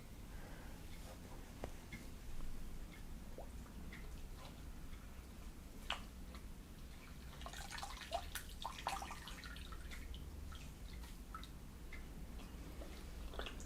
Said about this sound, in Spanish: Vamos limpiando nuestras esponjitas en el agua